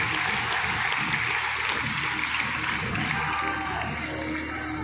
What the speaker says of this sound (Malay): Tepukan semangat terlebih dahulu kepada dua kumpulan yang masih menanti keputusan